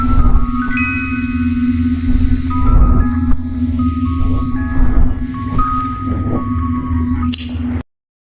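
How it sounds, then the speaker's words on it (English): Shadow Bonnie plushie music from the video game Nightshift Remastered, an eerie steady low hum under sparse chiming, glassy pinging notes with echo, playing continuously before cutting off abruptly. "And if you do hear this shadow Bonnie music, that's a plushie. It should sound like this."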